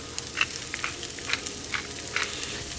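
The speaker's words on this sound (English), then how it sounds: "Drop in the shallots and garlic, and then stir them around, giving them a nice coating." Shallots and garlic frying in a pan as they are stirred, a soft sizzle with a quick run of crackling pops and light scrapes, heard up close and alone.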